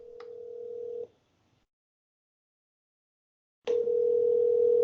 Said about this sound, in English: You hear the ringing